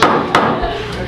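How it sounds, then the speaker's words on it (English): A judge's wooden gavel bangs twice in quick succession, sharp and close, with a brief ringing tail after each strike. "You can bang your gavel."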